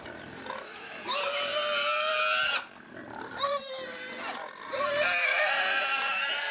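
Pigs on a livestock farm squealing loudly at feeding time, several shrill sustained cries in bursts with brief gaps, close to the listener, with a voice partly beneath them.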